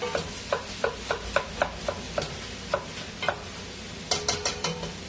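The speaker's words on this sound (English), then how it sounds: "So we're just going to kind of give this a rough chop, let it sear." Ground beef sears in a pan for ragu, a constant sizzle beneath repeated scraping and chopping strokes of a utensil breaking up the meat, evenly spaced knocks early, then a quicker cluster near the end.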